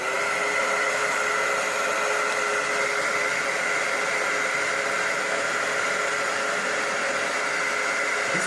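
A heat gun on medium heat blows hot air onto crayons to melt them, giving a loud, constant whooshing roar with a steady motor whine that holds unchanged from start to finish.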